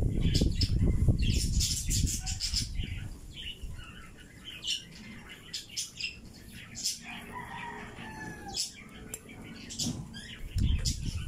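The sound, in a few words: birds calling outdoors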